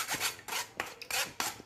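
Gram flour batter for khandvi is pushed through a sieve in repeated rasping strokes, roughly five distinct scrubbing passes in under two seconds, close up and without speech.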